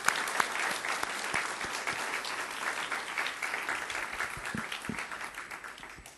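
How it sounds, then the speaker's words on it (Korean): A church congregation gives a round of applause during a Sunday worship service, steady moderately loud clapping from many hands that gradually thins and fades toward the end. "우리 하나님 앞에 영광의 박수 한번 올려드리겠습니다"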